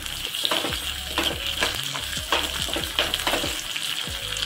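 Sliced onions fry lightly in a pan, a continuous close sizzle punctuated by rhythmic scraping strokes of a spatula stirring them about once per second.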